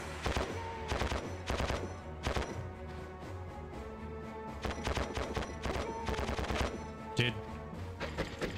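Gunfire from the war game Conflict: Desert Storm: repeated short bursts of automatic fire crack out in clusters, fairly quiet overall, with a single sharper report near the end.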